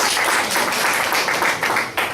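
Toastmasters club meeting audience gives a round of applause, dense and continuous close clapping from a modest group holding steady for a couple of seconds, with a faint voice underneath.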